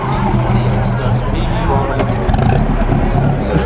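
A vintage 1915 Stutz race car engine runs at the 2011 Pebble Beach Concours d'Elegance car show, a low steady rumble heard beneath crowd chatter and nearby talking.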